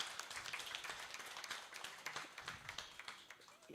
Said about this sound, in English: huge round of applause here